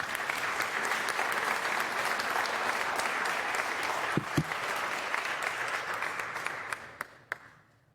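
Applause from lawmakers fills the Ohio Senate chamber, a sustained dense clapping that holds steady and then fades out over the final second.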